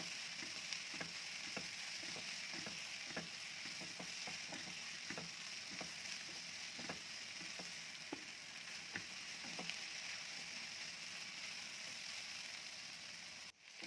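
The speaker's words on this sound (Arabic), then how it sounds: "نفضل بقى نقلب لحد ما البصلة بتاعتنا تتكرمل وتتحول للون شفاف فاتح كده" Julienned onions fry gently in a pan while being stirred, a soft, even sizzle with repeated light scrapes and taps of the spoon at a steady pace, quiet and close, with no talking.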